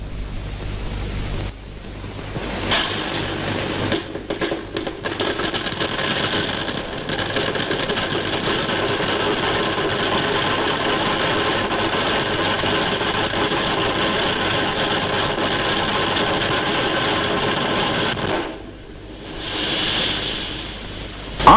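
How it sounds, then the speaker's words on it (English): A pipeline welding machine with a moving head welds steel pipe, producing a steady mechanical roar and hiss that runs continuously, falls briefly quiet, then resumes. "The weld commences."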